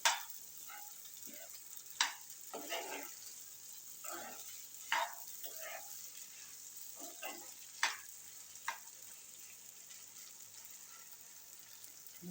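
Sabudana khichdi, a fasting dish, is stirred in a pan: a spoon scrapes and clacks in irregular strokes over a soft, low sizzle, close by and without speech.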